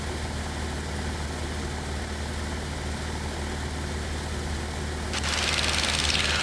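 A small single-engine propeller airplane cruises at about 2300 RPM near 4,000 feet over mountains, its steady droning hum filling the cabin without pause, with a brief rise in hiss toward the end.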